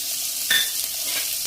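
Chana dal fries in hot oil with a steady, bright sizzle throughout, broken by a quick stir or scrape near the middle; close and fairly loud, no voices.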